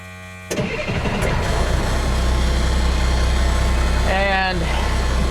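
A Deuce and a Half military truck with a freshly filled transmission cranks and fires up, settling into a loud, steady rumbling idle that fills the rest of the moment, with a brief voice near the end.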